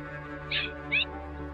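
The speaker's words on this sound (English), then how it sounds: "Here's a gray catbird we just took out of the ground trap" A gray catbird, freshly taken from a ground trap and held in a field lab for banding, gives two short high calls over a steady electrical hum, with no talking.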